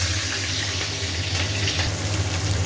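Potatoes and green chillies frying in a pan, a steady, dense sizzle with constant hiss and crackle, close and even throughout, no voice over it.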